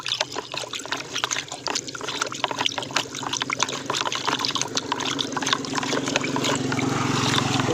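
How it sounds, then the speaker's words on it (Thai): Water is stirred with dissolving fertilizer flakes and humic substance for spraying rice, giving a continuous close sloshing and trickling swirl that grows fuller toward the end. "ก็คนในน้ำก่อนนะครับ"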